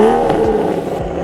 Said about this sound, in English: Just to hear these crackles and burbles coming out of the tailpipe